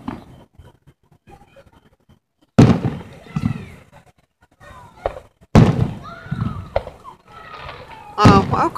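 Waxahachie fireworks show in 2015, with loud booming bursts that arrive in sharp separate blasts followed by crackling tails, several heavy explosions spread through the clip with quieter rumbling between them and people talking faintly.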